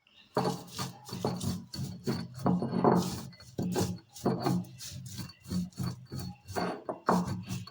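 Chilli and tamarind being ground by hand on a stone grinding slab (ammi), a steady back-and-forth rasping scrape of stone on stone repeating roughly every half second, close and clear with no talking.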